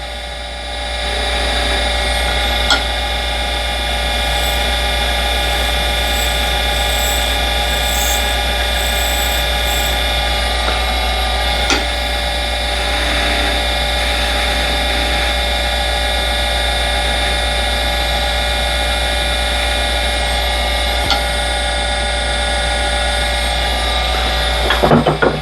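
Big wood lathe spinning steadily while a tiny toothpick is turned with a skew chisel, giving a constant loud motor hum and whine with faint, brief cutting ticks from the tool.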